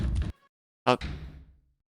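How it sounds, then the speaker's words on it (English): Someone bursting through a door and crashing onto the floor in a video game: a short thud burst, a pause, then a sharp loud impact that fades into a rattling decay. "Burst through the door and crash onto the floor."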